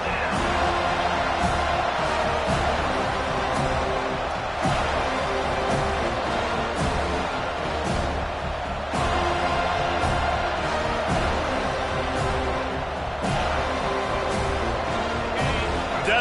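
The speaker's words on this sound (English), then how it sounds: "Decibels rising as the crowd gets behind this defense on 3rd down." A stadium crowd in the NCAA 25 college football video game roars continuously throughout, loud and sustained, building on a third down, with occasional whoops and swells.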